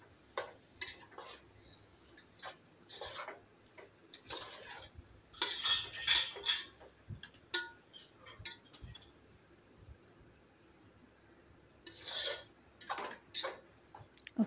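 A utensil stirs okra stew (bendakayya pulusu) in a pot, making intermittent scraping and clinking strokes in short bursts, close and fairly soft, with quiet gaps between them.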